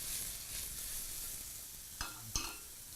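Egg whites frying in a drop of oil in a pan give a steady close sizzle, broken near the end by two sharp clanks as they are tossed and stirred.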